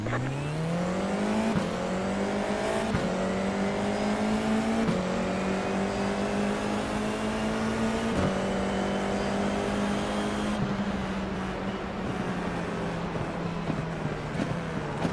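Race car engines in a racing video game accelerate after the green flag, one loud close engine whining up steadily through repeated gear shifts, each shift giving a brief dip before the pitch climbs again.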